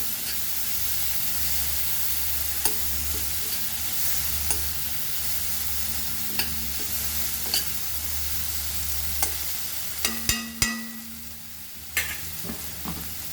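Khichdi ingredients frying gently on a low flame, a continuous soft sizzle close by, broken by a series of sharp spoon taps and clinks against the pot near the end.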